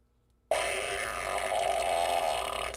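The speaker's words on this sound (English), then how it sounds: "the fart box makes an actual physical fart noise that goes in through my microphone and out to your ears" A fart box device lets out one long, loud, buzzy fart noise that starts abruptly after a brief silence and holds steady for over two seconds.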